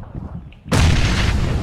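Video game gunfire erupts suddenly after a quiet stretch, a loud, dense barrage of shots and booms that stays sustained and close to the end.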